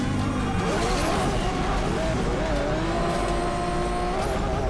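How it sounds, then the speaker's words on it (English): A Lamborghini V12 racing in Asphalt 8, a loud continuous engine note with a slight whine and rising pitch sweeps, backed by steady road and tire noise. "The newer Lambos have this V12 with a little bit of a whine."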